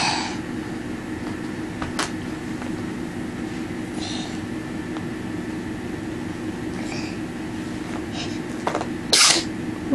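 A small child sneezes outdoors at an Easter egg hunt, with a soft sneeze midway and a sharp, loud one near the end over steady background noise.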